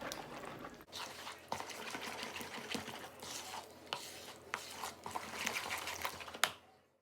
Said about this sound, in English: I'm just gonna stir this up rather well